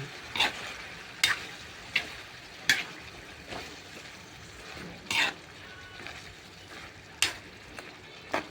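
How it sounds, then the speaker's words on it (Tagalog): Ginisang sitaw, string beans being sautéed in a pan, sizzles with a low steady hiss broken by periodic bursts of stirring and scraping roughly every second or two, close by and moderately quiet. "ang ginisang sitaw para sa ating lunch"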